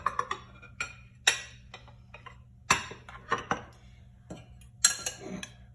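Pressed rice turned out onto a plate, a series of scattered light clinks and taps of utensils and dishware, close and fairly quiet against a low background hum.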